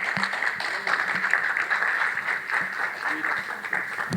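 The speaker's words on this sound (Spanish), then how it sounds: "Fuertes aplausos para él, por favor." Audience at a magistrates' association lecture on comparative constitutional law applauding a distinguished speaker, a steady moderately loud clapping throughout with a faint voice underneath.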